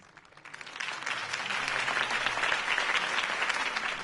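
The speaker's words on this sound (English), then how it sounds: "If only Mr. Wayne, my campaign's largest backer, could have heard that applause" Crowd applause after Harvey Dent's campaign speech, clapping that rises from a quiet start into a full, steady burst from many hands and stays strong to the end.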